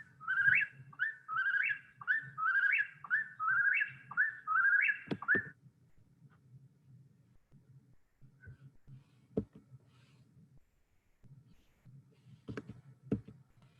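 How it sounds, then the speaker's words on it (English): A whippoorwill song played back from a video recording: a rapid series of about seven repeated whistled phrases, then quieter scattered clicks and faint background noise. "This is a whippoorwill."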